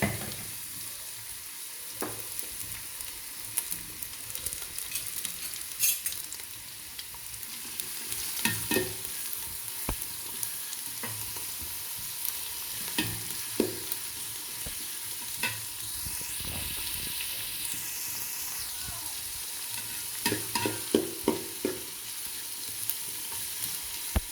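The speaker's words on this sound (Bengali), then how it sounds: "তেলটা এখন গরম হয়ে গেছে এখন আমি এখানে আগে থেকে পেঁয়াজ কাটা মিক্স করে দিলাম" Chopped onions fry in about one and a half cups of hot oil for a beef curry, giving a continuous sizzle with scattered scraping and clinking as a utensil stirs the pan, with no talking.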